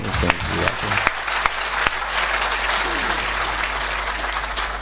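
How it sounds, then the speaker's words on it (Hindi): A crowd at a Hindi comic poetry show claps for a Guinness World Record poet. The sound is broad and continuous, with a few sharper individual claps standing out early on. "Guinness book of world record के कवि के लिए इतनी कम तालियां अच्छी नहीं है।"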